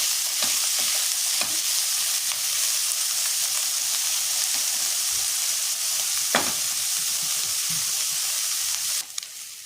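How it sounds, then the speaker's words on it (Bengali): Onions frying in oil in a pan for a jackfruit curry, a steady loud close sizzle with occasional stirring clicks, alone throughout. "পেঁয়াজটা একটু লাল লাল করে ভাজতে হবে"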